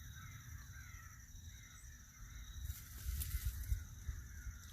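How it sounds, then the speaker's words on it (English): Crows cawing outdoors on a fall turkey hunt, calls rising somewhat distant over a hissy ambient background, growing louder toward the end. "the rest of the crows will avoid that area for a long time"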